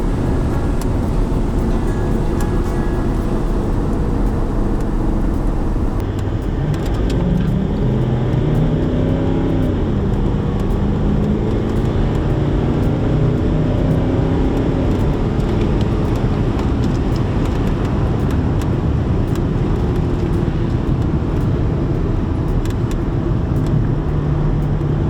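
A Range Rover TDV8, remapped with the EGR deleted, accelerates hard on the road from about 30 mph under full throttle, the engine note rising over loud, steady road and wind roar inside the cabin.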